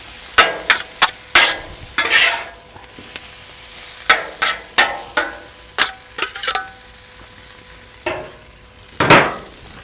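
Mushrooms and onions frying in a pan, a low sizzle under a series of sharp, loud scraping and tapping strokes of a utensil in uneven bursts.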